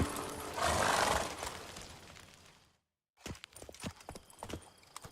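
Roach, a horse in The Witcher 3, clip-clops loudly and steadily for the first few seconds, then falls silent; after a brief gap, quieter irregular hoof and movement sounds resume nearby.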